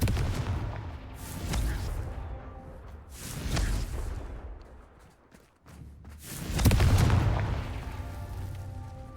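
Confringo blasting spell explosions in Hogwarts Legacy, several booming bursts in a row at a moderate distance, with a brief quiet dip before the loudest blast near the end.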